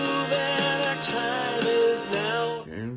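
A band's recorded song plays through a Baltimore Ravens Bluetooth speaker, a full mix of sustained instruments and vocals heard in the room at moderate volume before it cuts off abruptly near the end.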